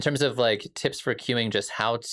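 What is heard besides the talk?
No everyday noise stands out behind the speech.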